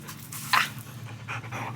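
A German Shepherd dog panting close by, quick rhythmic breaths with a brief louder huff, heard alone indoors without speech.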